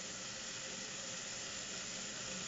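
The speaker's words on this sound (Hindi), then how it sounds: "एक दो बार भून लें इसको" Mixed vegetables sauté in a pan for a vegetable platter, giving a continuous, even sizzling hiss that holds steady throughout, close but fairly soft, with no talking.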